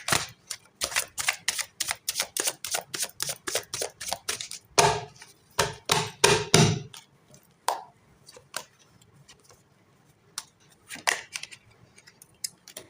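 Tarot cards get a final shuffle in crisp, rapid bursts of papery slaps and clicks. Tight clusters are broken by short pauses, then a few scattered taps as cards are set down.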